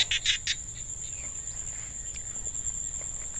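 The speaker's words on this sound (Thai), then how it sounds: "เสียงเขียดห้องหาคู่" Rice-field frogs calling for mates: a steady high-pitched trilling chorus with a few brief sharper calls at the start, continuous and fairly close in an open outdoor setting.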